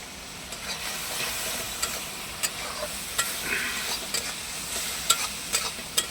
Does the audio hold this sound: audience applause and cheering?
no